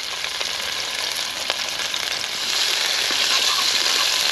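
Himalayan balsam frying in a pan gives a steady, close sizzle with occasional soft pops and stirring scrapes, and it grows slightly louder toward the end.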